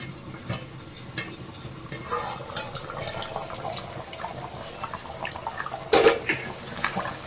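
Water, about six glasses, is poured into a cooking pot of chicken for biryani, giving a continuous liquid splashing and stirring wash with a brief louder burst near the end, with no talking.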